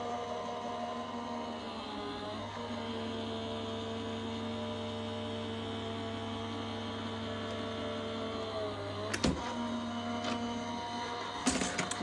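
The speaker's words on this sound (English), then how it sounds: "I'm going to run that through our Gemini machine." Gemini die-cutting machine steadily running a cutting plate sandwich with plastic shim through its rollers, a continuous motor hum with tonal drone throughout and a couple of sharp clicks near the end.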